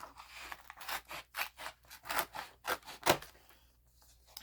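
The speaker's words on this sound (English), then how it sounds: "I'm going to need a scissor because it's not wanting to rip off. So I will cut it off the top here." Scissors snip through plastic packaging in a quick series of close, crisp cuts, about a dozen in a loose rhythm, ending with one sharper snip.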